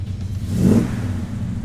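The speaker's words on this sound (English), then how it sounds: "we'll give it a couple of tweaks on the gas to demonstrate the throttle response and the sound." A 1960s Chevrolet Chevelle SS 396 muscle car engine revs once in a short throttle blip, rising and falling over a steady low idle rumble, close by.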